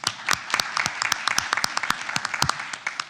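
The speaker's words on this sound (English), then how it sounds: "Love the cheering in the room today." Steady applause fills a city commission meeting room, with many close, sharp hand claps forming a dense, even patter throughout.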